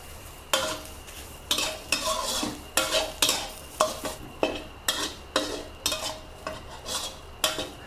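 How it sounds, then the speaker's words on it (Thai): Vegetables for a Lao vegetable soup being stirred and dry-roasted in a pan over low heat, a utensil scraping the pan in steady, evenly spaced strokes about twice a second, close and moderately loud with no talk. "ใช้ไฟอ่อนๆนะคะ ค่อยๆ คั่วไป จนให้ทุกอย่างมีความสุก มีความเกรียมๆหน่อยนะ"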